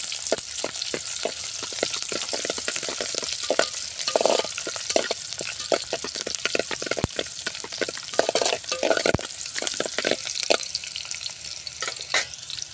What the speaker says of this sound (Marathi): आता तेल गरम झालं आहे, त्यामध्ये कांदा सोडून द्यायचा आहे.